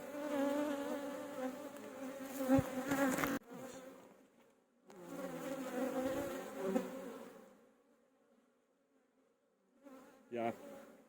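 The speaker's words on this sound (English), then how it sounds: "Crazy bees." Honey bees swarm and buzz around an opened hive in fall, a dense droning hum rising and falling in two long bursts, with a short close buzz near the end and quiet gaps between.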